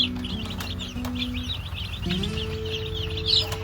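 A brood of baby chicks peeps continuously, a dense chorus of small high cheeping notes, while low droning tones come and go underneath, likely from a heater or fan.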